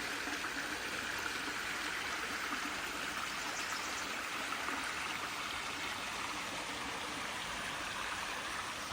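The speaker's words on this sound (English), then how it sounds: "here's the creek." A forest creek flows steadily, giving a continuous broadband rush and gurgle of water that stays close and even, with no voices over it.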